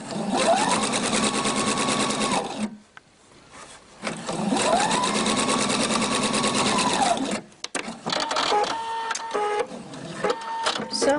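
A Husqvarna Viking sewing machine stitches piping into joined fabric in two long, steady runs of rapid needle chatter, each ending with a brief pause, followed by softer handling clicks and rustles.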